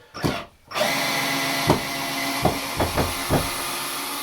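A power drill removing screws while an hour shower unit is being taken apart, giving a steady whirring drone with several short bursts of the motor revving, close by and with no talk.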